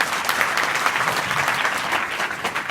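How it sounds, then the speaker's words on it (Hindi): Roomful of secondary-school girls clapping together in a classroom, a brisk, steady wash of applause that stays even and fairly loud throughout, without talk over it. "ताली बजाओ।"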